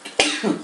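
A single sharp, percussive sneeze bursts out close by, followed by a short breathy tail.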